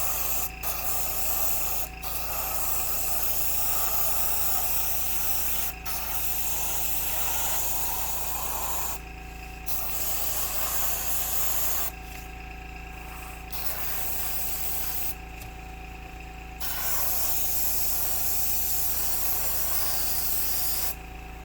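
Continuous hiss of an airbrush spraying Vallejo paint mixed with Tamiya X20A onto a 1/35 scale model display base, broken by several short pauses between passes, close and steady.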